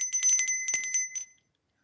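A small bell dings rapidly and brightly about a dozen times, close and clear, then stops and leaves silence.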